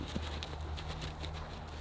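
Horses at play trot on the ground, their hooves clip-clopping in a quick, uneven rhythm at moderate distance, fairly quiet and with no talk.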